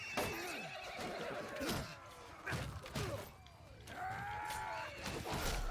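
Horses neigh and whinny repeatedly in the battle game Bannerlord, loud shrill calls overlapping one another, with occasional hoof clops and thuds in the background.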